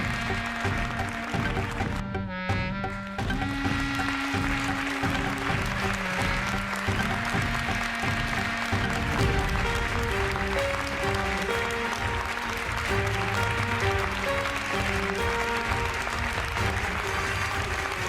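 Loud, sustained applause from a gathered crowd, clapping steadily and close for the full length, with tonal music running beneath it throughout.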